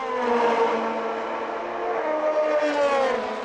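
Race cars at the 4 Hours of Monza roar past one after another, engines whining at high revs with shifting pitch as they sweep by, loud and continuous with no talk.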